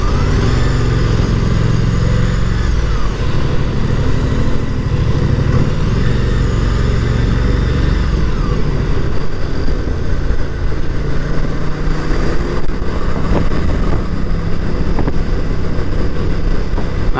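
A Moto Guzzi V100 Mandello Aviazione Navale motorcycle engine runs steadily while riding at cruising speed, a continuous loud mid-low drone with wind roar and no voices.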